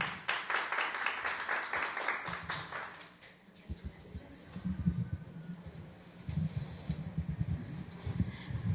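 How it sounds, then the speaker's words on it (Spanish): Clapping from an audience welcoming a speaker at a university talk on women and human rights, dense patter at first, then thinning to scattered claps over background murmur and voices. "Recibamos por favor con un fuerte aplauso"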